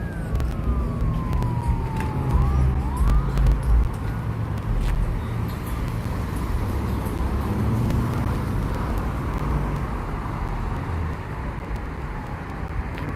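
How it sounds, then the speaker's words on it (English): Police car sirens wailing in Los Angeles during a protest at a sheriff station, a descending tone rising and falling at mid distance over steady traffic and crowd rumble, continuous throughout. "We're getting more sirens, and that's catching my attention."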